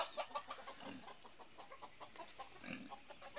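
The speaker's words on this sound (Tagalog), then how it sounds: "Dito sa lugar nila, marami silang alagang manok." Gamecocks and chickens kept for fighting on a family farm cluck and call faintly and repeatedly in the distance, with occasional low grunts from nearby pigs and no talking.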